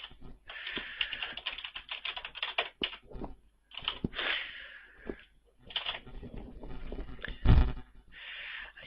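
A computer keyboard clatters in irregular bursts, with runs of quick keystrokes broken by short pauses. One heavier key thump comes near the end, and no voices are heard.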